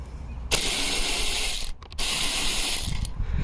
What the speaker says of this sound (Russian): И торксом на Т30 откручиваю.